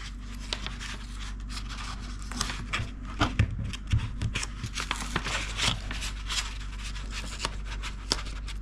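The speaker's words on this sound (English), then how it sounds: "We've got the bonnet part. We're going to peel this off." Backing is peeled from a printed vinyl body decal on the bonnet of an Arrma Fireteam RC car body, giving intermittent close crackles and tearing scratches in short bursts over a quiet background.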